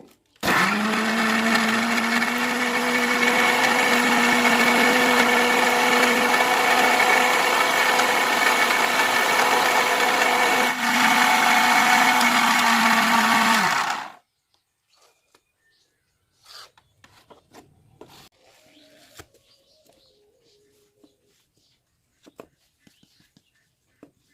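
A kitchen blender grinds ingredients into a hair paste, running loud and steady for about fourteen seconds before cutting off abruptly, followed by faint scattered clinks and handling sounds.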